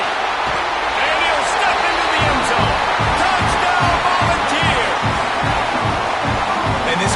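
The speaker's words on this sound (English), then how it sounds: "crowd was already jacked up" A football stadium crowd roars steadily after a Tennessee Volunteers touchdown against UNC, a loud, sustained wash of cheering with rhythmic clapping or stomping underneath.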